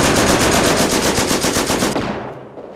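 Rapid machine gun fire rattles in fast bursts during a Company of Heroes battle, loud and continuous before cutting off and fading out.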